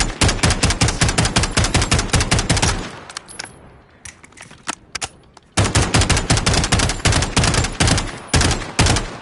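Pulse firing of a gun in Call of Duty: loud, rapid automatic bursts, a pause of a couple of seconds with scattered quieter shots, then another sustained burst.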